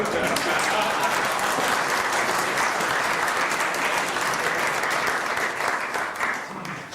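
Sustained applause from a lecture audience, dense and steady throughout at close range, tapering slightly at the end.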